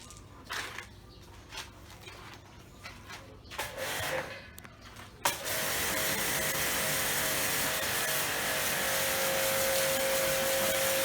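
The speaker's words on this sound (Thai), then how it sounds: "เอาเครื่อง อัดฉีดแรงดันสูงซัดกันเลยครับ" A high-pressure washer sprays a mattress clean, starting after a few scattered clicks and rustles and then holding a loud, steady hiss of water spray to the end.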